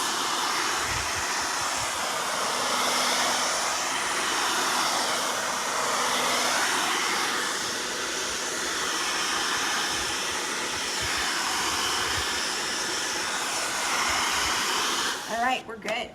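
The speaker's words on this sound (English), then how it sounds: "let me give just one more shot with the hair dryer to make sure that I'm really good and dry" A hair dryer blows steadily on freshly applied fast-drying lacquer over an unsanded wooden board, a loud continuous airy whoosh that holds for about fifteen seconds before cutting off with a few handling knocks.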